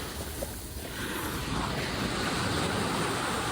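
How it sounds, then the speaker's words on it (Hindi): Ocean waves break and wash in at Kite Beach in Dubai, a continuous loud rushing surf with wind buffeting the microphone, no voices. "लहरें भी इतनी ज़्यादा आ रही हैं।"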